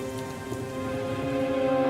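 Steady rain patters on a surface as a sound effect in an animated children's story, with a soft sustained musical tone underneath.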